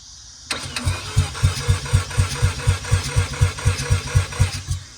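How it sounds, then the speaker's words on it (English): Mazda RX7 that sat in a shed for years cranks over on the starter, a rhythmic, evenly pulsing churn of about four beats a second that runs steadily for several seconds without firing, close and fairly loud. "I can connect these two and it begins cranking over"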